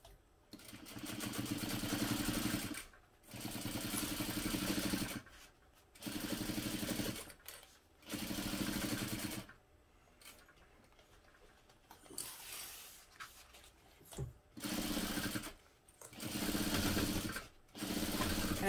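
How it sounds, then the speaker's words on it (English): A sewing machine runs a half-inch seam on a crossbody bag in several bursts of steady whirring, each a few seconds long, separated by short pauses, close and fairly loud with no talking. "I'm just sewing this together using a 1/2 inch seam allowance."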